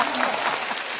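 Audience applause fills the room at a Chinese stand-up comedy show, dense steady clapping that carries through the whole brief moment with no speech over it.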